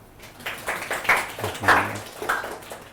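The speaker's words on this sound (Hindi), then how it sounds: "ताली बजाओ इसके लिए।" Classroom students clapping together, a ragged burst of claps building and fading over a few seconds with a low voice briefly audible underneath.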